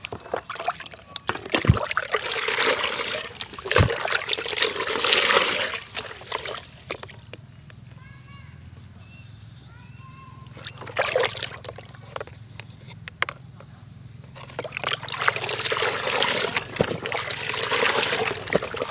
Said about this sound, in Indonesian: ini yang sudah tanam tadi kita siram ya dengan air micin ini